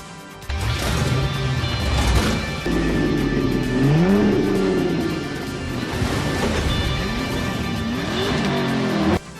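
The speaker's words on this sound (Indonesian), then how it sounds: "Para pembalap mulai menggeber-geber mobilnya terlebih dahulu." Prison race cars at Terminal Island rev their engines before a brutal race, several loud engines climbing and dropping in pitch in repeated overlapping roars, nearby and continuous.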